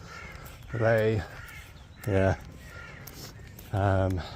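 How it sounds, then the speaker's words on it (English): Crows cawing outdoors in three loud, separate harsh calls spaced a second or so apart, over faint background noise with a brief spoken word. "you can hear the birds"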